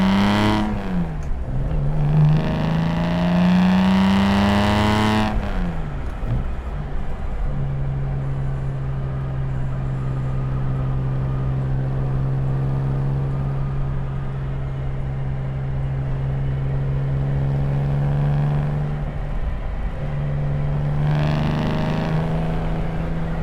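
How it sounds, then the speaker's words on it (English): A 1961 Aston Martin DB4 accelerates hard, its engine note climbing loudly through the revs before settling into a strong, steady drone, then surging up again at the end, heard close with no talking. "So we'll do another acceleration."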